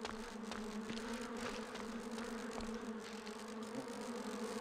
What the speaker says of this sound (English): Hold on, just trying to avoid bees.